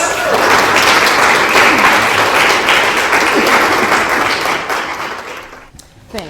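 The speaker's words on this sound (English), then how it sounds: "And can we give them a round of applause?" A church congregation applauds youth speakers in a thick, lively burst of clapping that holds steady for several seconds, then thins out and fades, ending with a few scattered claps.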